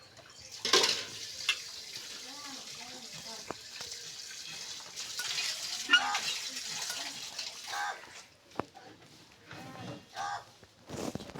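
Vegetable curry with jatka fish simmering in a pan, a soft watery bubbling and light sizzle running throughout at low level, with occasional clinks of utensils.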